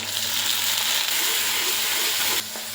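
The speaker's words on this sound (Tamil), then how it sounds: "இப்போ நல்லா எண்ணெயிலேயே வதங்கட்டுங்க" Green turkey berries and manathakkali berries fry in oil with sautéed onion and garlic for a vatha kuzhambu, giving a steady broad sizzling hiss that stays constant and close, then drops slightly near the end.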